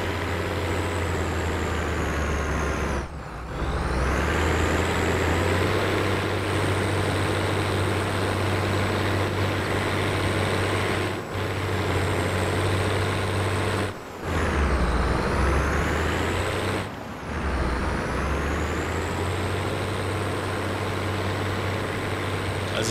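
Ford County 1184-TW tractor in Farming Simulator 22 drives along at about 11 km/h, its engine droning loud and steady with a low hum, briefly dipping at each of several gear shifts.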